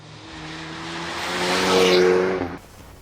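A 2018 Hyundai i30 N hot hatch engine revs up steadily over a few seconds, growing louder and rising in pitch to a peak, then cuts off abruptly, with no voices.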